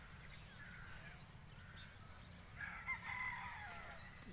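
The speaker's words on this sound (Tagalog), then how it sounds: "Farm ng mga manok. Napakalawak ng lupang ito." Chickens cluck and crow at a distance on a wide chicken farm in Batangas, Philippines, over a steady outdoor hiss, with a louder burst of fowl calls near the end.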